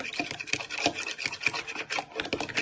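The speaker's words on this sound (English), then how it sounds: "Give these a good whisk" A fork whisks eggs in a bowl, giving a steady scraping, rasping rhythm of quick strokes that holds close and fairly quiet for the whole stretch, with no talk over it.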